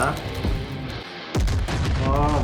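Explosion blast from an action movie trailer, a loud booming hit at about 1.3 seconds that sweeps down into a heavy rumble, set amid dense score and effects with a voice speaking over parts of it.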